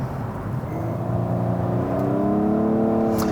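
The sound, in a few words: Nissan VQ V6 engine revving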